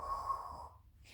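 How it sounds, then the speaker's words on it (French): A single steady exhale followed by a quick intake of breath during a Pilates exercise, close and soft, with no talking. "je souffle et j'inspire"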